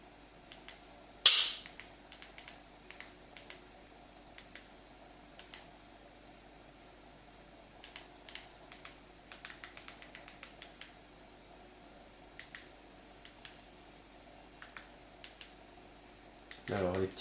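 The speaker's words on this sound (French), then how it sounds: "je vais commencer à composer avec le clavier QWERTY" Sharp key presses on a QWERTY keyboard of a Proster remote and keyboard combo, tapping out in short bursts and single strokes, close by, with pauses between clusters and a faint hum underneath.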